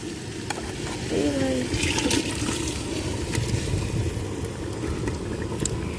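Hot water is poured into mutton curry cooking in a clay pot, giving a steady, close rush of liquid that lasts several seconds over background clatter.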